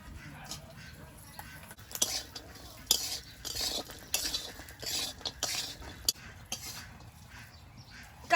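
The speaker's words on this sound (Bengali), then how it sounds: "কাজু আর কিশমিশটা একটু ভেজে নেবো" Cashews and raisins stir-fried in hot oil in a wok, a spatula scraping and clinking against the metal in irregular bursts over a soft background sizzle, close and moderately loud with no talk.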